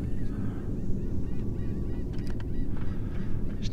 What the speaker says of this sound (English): Get away, bird.